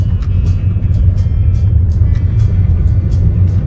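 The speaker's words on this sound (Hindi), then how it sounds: "बहुत ही खूबसूरत तरीके से बिना कोई नॉइज़ के आराम से थर्ड गियर में गाड़ी उठ गई है" A 2014 Toyota Etios Cross, about 117,300 km on the clock, pulls smoothly in third gear on a highway at around 1700–1800 RPM, giving a steady, loud low rumble with faint ticking above it and no speech.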